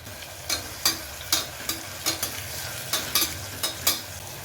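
Onion frying in oil in a pan with salt added for a spicy veg pulao, a steady sizzle broken by about ten sharp spatula scrapes and clinks at an uneven rhythm, close and moderately loud with no voices.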